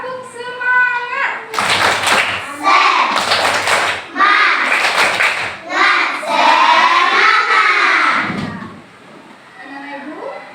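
An Indonesian school class claps a quick patterned rhythm in bursts, mixed with children's voices chanting along, close and lively.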